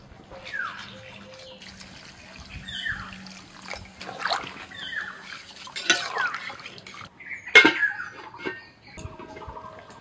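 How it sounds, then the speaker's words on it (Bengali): Water poured into a pan of potato and soybean curry cooking in spice paste gives a few faint trickling and splashing bursts with brief pauses between them, quiet and close, with no one talking. "এবার জল দিয়ে দিচ্ছি"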